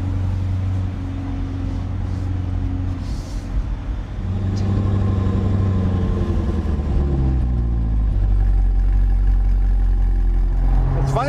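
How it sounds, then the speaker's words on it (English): A 2020 Chevrolet Corvette C8 Z51 convertible with its mid-mounted engine in tour mode gives a deep, steady exhaust drone that swells louder as it builds revs, heard close from the cabin without talk. "It's funny for a Corvette to have the noise behind you instead of in front of you."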